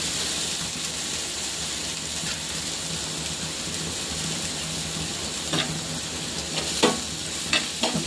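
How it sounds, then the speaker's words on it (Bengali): Curry leaves sizzle in hot oil in a pan, a steady close crackling hiss with a few sharper pops and spatters toward the end, with no voices over it. "এই যে কারি পাতা দিয়ে দিচ্ছি"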